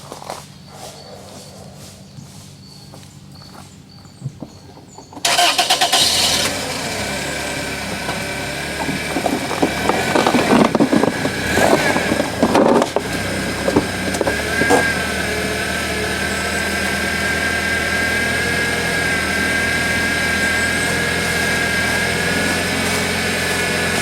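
A 1999 Toyota Corolla's engine revving as the car climbs up onto ramps, a loud, steady mechanical drone with a few rattling knocks, after a quieter idle at the start.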